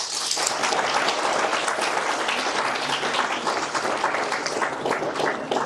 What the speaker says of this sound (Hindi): उन सब के लिए एक जोरदार तालियां बजाएं।